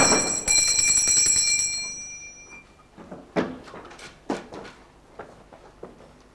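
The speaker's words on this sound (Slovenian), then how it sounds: "Ste vi pozvonili, gospod?" A hand bell is rung to summon a servant, a bright, close ringing with a lingering tone that fades after about two seconds, followed by several sharp knocks and thuds.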